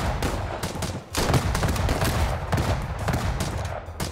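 Loud, dense gunfire from a weapon in the video game Madness Project Nexus 2, a continuous rapid barrage of shots with one brief break, harsh and close with no talk over it.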